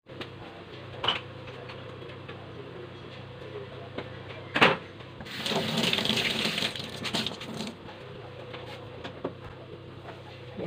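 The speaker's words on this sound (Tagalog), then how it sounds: "ngayon po ay atin siyang huhugasan at aalisin po natin yung mga green po na yan" Beef bones are washed under a running kitchen tap, with a gush of water swelling in the middle, scattered knocks and clatters of bones and a cupboard around it, close by.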